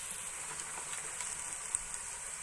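Chillies frying in a pan on a stove turned up high for palak kadhi, giving a steady, soft hiss of sizzling oil with faint crackles throughout and no voices.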